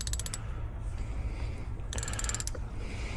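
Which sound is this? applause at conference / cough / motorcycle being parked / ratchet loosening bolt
ratchet loosening bolt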